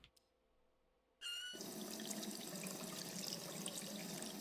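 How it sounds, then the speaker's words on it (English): Black water gushing from a pipe in the video game Rue Valley: near silence, then a sudden loud splashing rush that keeps pouring steadily to the end. "Yep, steam of black water flowing straight out the pipe."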